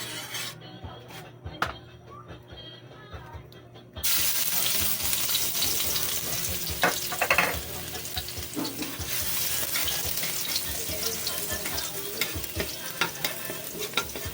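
Garlic sautés in oil for a squid and fish adobo, starting with a quieter crackle that jumps to a louder, dense sizzle after a few seconds, with scraping and spatula knocks throughout.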